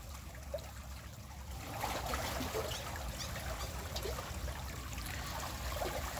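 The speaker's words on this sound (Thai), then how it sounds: "นี่คือการเปิดน้ำครับเปิดน้ำเข้าจากทะเล" Seawater from the sea rushing in through an opened inlet into a mud crab pond, a steady broad gushing and trickling wash that swells louder midway and continues without pause, with no voices over it.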